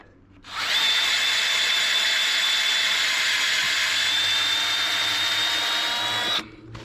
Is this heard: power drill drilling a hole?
yes